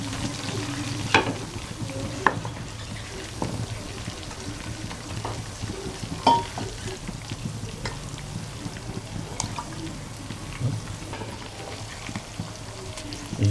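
Chicken for charsi karahi sizzles and crackles steadily in hot oil, with occasional sharper pops and the scrape of stirring, close up and continuous.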